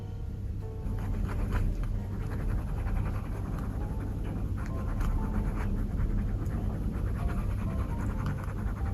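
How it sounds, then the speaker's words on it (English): Leather edges of a pencil case burnished with a linen cloth give a steady, close rubbing and scratching, repeated strokes forming a continuous gritty friction sound with no voices. "I'm using a linen cloth and I'm burnishing it without Tokonol"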